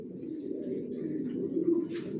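Racing pigeons cooing inside a loft, low, soft, continuous throaty coos heard close up, with a few faint chirps over the top.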